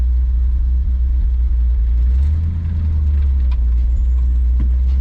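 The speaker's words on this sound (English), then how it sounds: "This truck's low enough, it'll take off in first low without much throttle." A log truck with a two-speed axle pulls away in first low gear, its diesel engine a loud, deep, steady rumble close by that swells briefly with light throttle.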